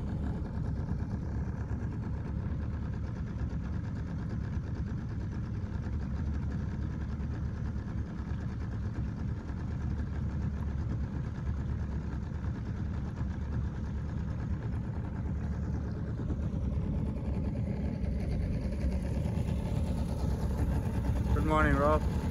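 A fishing boat's engine idles on a river in Kakadu National Park, Australia, with a steady, low mechanical drone that runs continuously and swells slightly toward the end.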